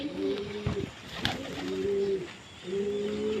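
Pigeons being fed grain coo close by in three drawn-out, throaty bursts with short pauses between, faint scratches and pecks in the gaps.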